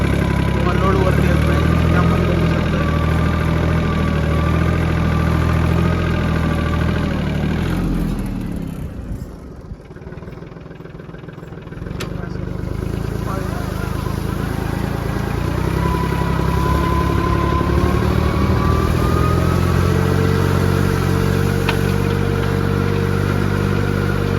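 A Swaraj Target 630 tractor engine runs steadily while working a guava plantation plot, a loud continuous drone that dips briefly near the middle before returning, and a voice talks over it.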